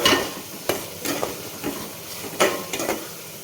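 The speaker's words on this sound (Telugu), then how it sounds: "ఆనియన్స్ని ఇలా ఫ్రై చేసుకోవాలి." Onions frying with green chillies in a pan for a drumstick and tomato curry, with a spatula scraping and stirring in a few distinct strokes over a steady, soft sizzle.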